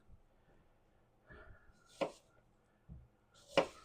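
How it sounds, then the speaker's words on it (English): A knife slicing through Gala apples on a cutting board, two crisp cuts standing out clearly with a few softer knocks between, close and quiet. "And then I'm just going to slice these like this."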